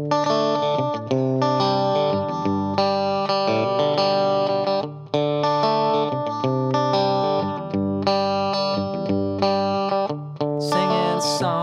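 Electric guitar plays simple licks from a song through chorus and distortion effects, a steady run of bright, sustained picked phrases, loud and close with no talking.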